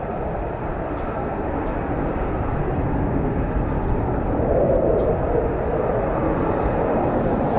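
A military jet from RAF Lakenheath roars nearby, a dense continuous rumble that stays loud and steady with a slight swell midway, no one talking.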